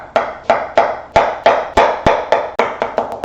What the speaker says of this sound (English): We're going to chop up this onion.